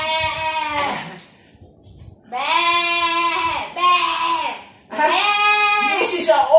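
A young child imitates a goat's bleat with several drawn-out, wavering voiced bleats, loud and close, separated by short pauses.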